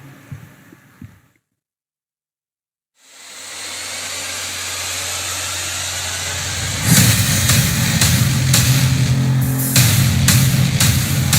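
After a moment of near silence, a 2026 Toyota RAV4 GR Sport hybrid makes a loud, steady drone at its world premiere. Around the midpoint the sound swells, and sharp crackling transients cut through it.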